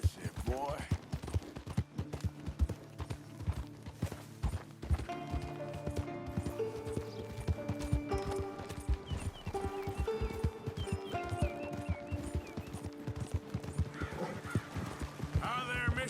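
Horse hooves clip-clop at a trot in Red Dead Redemption 2, rhythmic close thuds throughout, with occasional whinnies, background music and a voice speaking over them.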